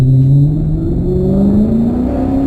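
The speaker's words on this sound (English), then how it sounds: "probably hear that exhaust note" A car engine revs up as it accelerates, its throaty exhaust note climbing steadily in pitch, loud and close.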